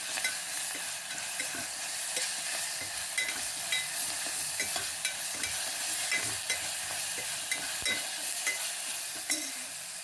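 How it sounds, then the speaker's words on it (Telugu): Ginger garlic paste frying in a pan, a steady close sizzle with soft scraping stirs running throughout, no voices. "ఇప్పుడు అల్లం వెల్లుల్లి పేస్ట్ పచ్చివాసన పోయే వరకు వేయించుకోవాలండి బాగా"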